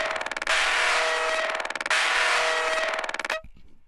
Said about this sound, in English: Then this resampled Reese thing.